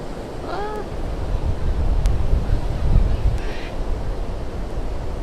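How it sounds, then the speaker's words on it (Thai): Sea waves wash onto a beach at Mae Ramphueng, a steady loud surf roar swelling and receding, mixed with wind buffeting the microphone and a few faint bird calls. "คลื่นซัดฝั่งเข้ามาฟองสีขาวๆสวยมากเลยค่ะ"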